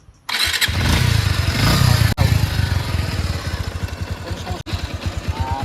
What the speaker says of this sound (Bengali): আর এই বাইকটার সাউন্ড আপনারা শুনতে পারেন দেখুন